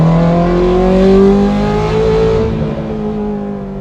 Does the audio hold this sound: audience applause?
no